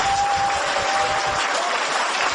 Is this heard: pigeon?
no